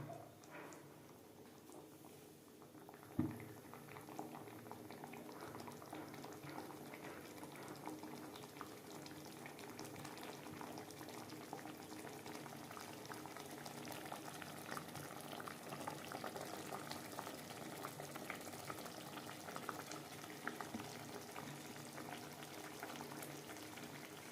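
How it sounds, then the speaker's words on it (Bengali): Shim paturi curry with a bowl of water added simmers and bubbles in a pan, a quiet, steady stream of small pops and gurgles after a single soft knock near the start. "এবার এখানে আমি এক বাটি জল দিয়ে দেব ব্যাস এবার এটাকে ভালো করে ফুটতে দেবো"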